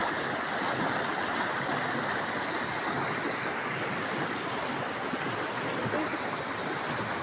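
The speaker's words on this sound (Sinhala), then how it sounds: "ඔය කුඹුක් ගස් යටින් යන වතුර ළමයිනේ." A cool stream flows beneath a grove of kumbuk trees, a steady, close rushing of water with no voices over it.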